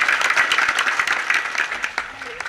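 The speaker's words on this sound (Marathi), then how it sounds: "जोरदार टाळ्या वाजवा." Audience at a kirtan clapping hard, a lively burst of dense applause that tapers slightly toward the end, close and loud.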